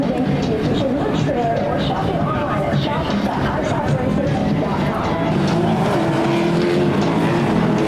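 Off-road racing buggies roar at a race start at an Erx off-road national event, a dense, loud wall of engine noise with tire scrabble that holds steady throughout, with a voice talking over it.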